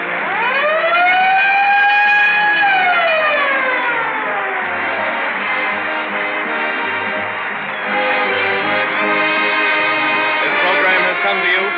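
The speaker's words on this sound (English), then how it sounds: "whenever you hear the siren and bell, think of Texaco Fire Chief Cassidy." A Texaco Fire Chief radio sound effect: a loud wailing fire siren rises and falls steadily, with a clanging bell running beneath it.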